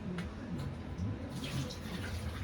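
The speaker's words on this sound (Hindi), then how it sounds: "2-3 मरतबा अच्छे से पानी से धो के, मैं 3 मरतबा धोता हूँ।" Running water from a tap pours steadily over rice being rinsed by hand in a home kitchen, a continuous close splashing wash with small shifts as the grains are stirred, no voices present.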